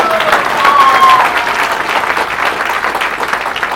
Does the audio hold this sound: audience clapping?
yes